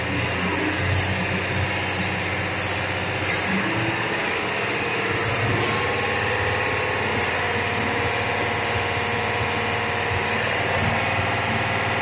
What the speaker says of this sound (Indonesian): Ya, kita masukin ke gigi 3 ya. Masuk gigi 3. Coba kita gas.